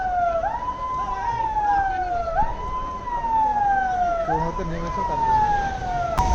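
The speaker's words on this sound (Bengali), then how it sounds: "আর ওই যে ওখানে দেখে দেখছে আর সাইরেন বাজাচ্ছে" A siren wails in repeated rising-and-falling cycles at the beach in Digha beside a rough, surging sea, sounding steadily at moderate distance over a constant background rumble.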